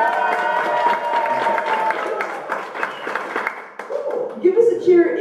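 Audience at a stand-up comedy show cheering and clapping in a continuous crowd roar, fairly loud and steady, with voices shouting through it and a louder burst near the end.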